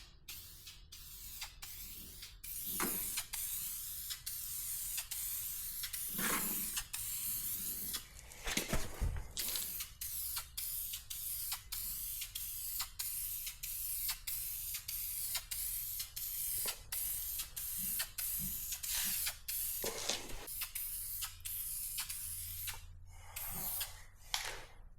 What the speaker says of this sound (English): I'm gonna do two coats, two light coats of primer